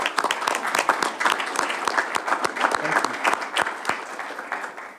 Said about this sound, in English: I think they need an applause for that.